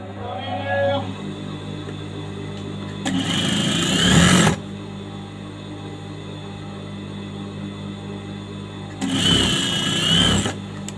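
Sewing machine stitching the lining of a chudithar top, running in two loud bursts of about a second and a half each, separated by a steady lower hum from the nearby motor.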